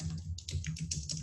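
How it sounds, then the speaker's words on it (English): Fingers type quickly on a computer keyboard, a close, steady patter of light key clicks entering text into an accounting software field, with no talking. "So I'm typing in the custom field"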